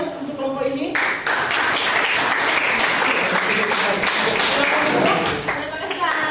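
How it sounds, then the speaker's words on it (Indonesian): Students in a junior high classroom applaud a group after its poster presentation, a burst of close, busy clapping that builds quickly and holds, with voices chattering through it before it tapers off. "Tepuk tangan untuk kelompok ini."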